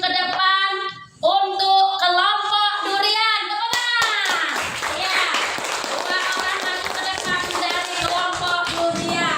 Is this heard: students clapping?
yes